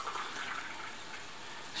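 Freshly boiled water poured from a glass into a pot of simmering pasta horns on a stove, a soft continuous splashing trickle that stays faint and even throughout.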